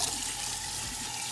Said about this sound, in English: Now we have to wash them again with clear, like clean water.